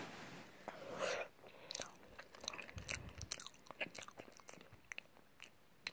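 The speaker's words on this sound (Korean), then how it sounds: "이제 바나나 옮겨주고 한번 ASMR로 해서 먹어볼게요" Close, quiet bites and wet chewing of a homemade banana snack, with a soft rustle at first followed by a run of small crunchy and sticky mouth sounds in an irregular rhythm, recorded in ASMR style.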